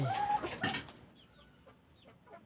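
A breeder hen clucks close by, a few short soft clucks after a louder burst of noise, faint against a quiet background with no talk.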